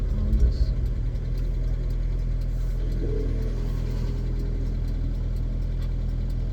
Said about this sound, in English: So we've got a little bit of noise in first gear.